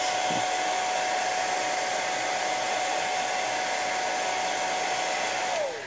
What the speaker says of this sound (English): I use just a regular hair dryer and it works for me. So on the lowest setting